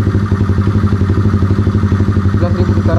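A fuel-injected Honda CB motorcycle engine holds high revs near its maximum, a loud, close, steady mechanical drone with a fast regular pulse.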